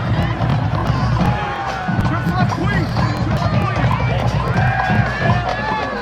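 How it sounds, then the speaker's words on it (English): Crowd noise from the Bishop McGuiness sideline at a high school football game, a steady murmur of voices and occasional cheers running throughout at moderate distance. "Got a nice crowd out on the Bishop McGuiness sideline."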